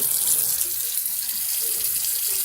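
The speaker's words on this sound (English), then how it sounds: "So I'm just rinsing off her moss." Tap water runs steadily over moss and a rock being rinsed from a snake tank, a close, continuous splashing hiss from the faucet with no speech.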